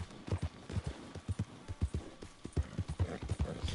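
Horse hooves clip-clop at a steady, close rhythm in the Red Dead Redemption 2 video game, with regular paired beats carrying through the whole stretch over faint game ambience.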